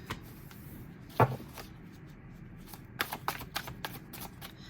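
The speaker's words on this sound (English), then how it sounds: "sometimes when I shuffle, cards go all over the place" A deck of tarot cards is shuffled in short riffling bursts, a sharp flutter early and a few quicker ones later, close and quiet.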